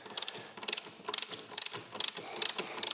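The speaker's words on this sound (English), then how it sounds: "We start with removing one screw over here." A hand ratchet loosening a screw on a BMW R1250RT motorcycle, its pawl clicking in short, evenly spaced bursts, close and alone.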